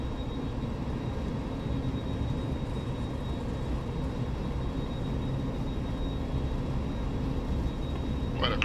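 Boeing 737-200 jet engines roaring steadily through a takeoff roll in a flight simulator, a loud constant broadband rush with a faint high whine.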